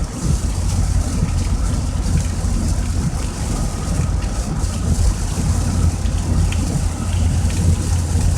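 Heavy summer rainstorm in Lancaster, Pennsylvania, a dense, steady roar of rain pounding surfaces with low rumbling beneath, loud and continuous throughout with no talking.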